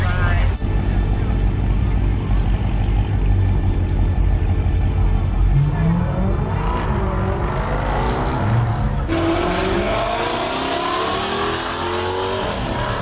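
A car revs and accelerates away on a city street after police clear a scene, its engine roaring loudly and then sweeping off into the distance while people talk over it.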